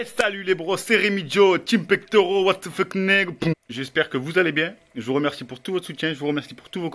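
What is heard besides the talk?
No everyday noises stand out.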